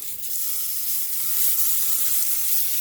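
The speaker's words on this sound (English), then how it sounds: "I've got my oil in the pan already nice and hot. I'm going to go ahead and put these in" Turkey burger patties sizzle loudly in hot oil in a pan, a steady dense crackling hiss that holds without pause throughout.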